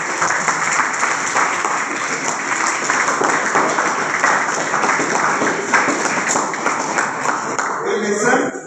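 Classroom of senior secondary students applauding together after prompting from their principal, a dense, steady burst of many hands lasting several seconds before tapering off abruptly at the end.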